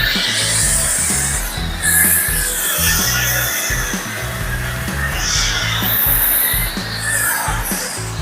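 Foam being sprayed over a ceramic-coated truck for a contact wash, a steady close hiss of spray with low rumbling pulses running through it from start to finish.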